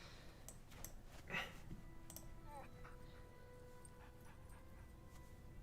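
A dog whimpers and yips faintly in the background, a few brief high cries standing out against a low steady noise floor.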